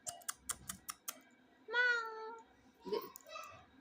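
A house cat gives one clear, drawn-out meow, then a shorter second meow, after a few sharp tapping clicks. Everything is heard close up indoors with no talking.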